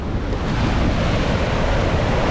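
Indian Ocean waves washing onto a beach at Gouritsmond, South Africa, a loud continuous surf roar with wind buffeting the microphone and no voices.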